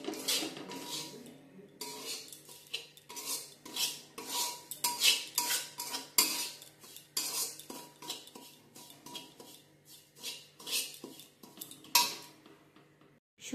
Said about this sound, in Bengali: আমি এবার একটু লাল লাল করে সুজিটা ভেজে নেব।